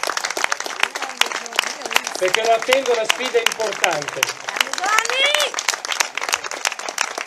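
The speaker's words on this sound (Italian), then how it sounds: "gli farei un caloroso applauso" Warm applause from the crowd at a national festival presentation for La Croce, scattered claps running under someone speaking Italian throughout.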